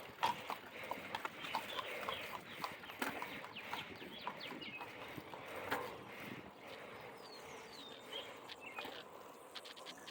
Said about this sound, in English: it wasn't uncommon to pass multiple Amish buggies on their way to church services that morning